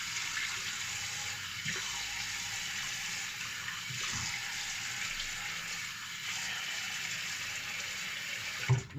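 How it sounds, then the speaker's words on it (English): Hot water runs steadily from a bathroom tap as it is splashed onto the face before a shave, a continuous close hiss of flow with a brief louder splash at the very end. "Just going to put some hot water onto the face."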